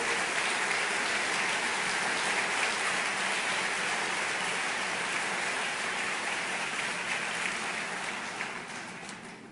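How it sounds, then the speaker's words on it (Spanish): Dense, steady applause from a conference audience at CADE 2013, honoring the speaker's parents. It sustains evenly for about nine seconds before tapering slightly at the end. "quisiera ese aplauso para mis padres"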